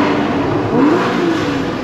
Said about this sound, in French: Quand on accélère, on entend quand même le bruit arrive rapidement.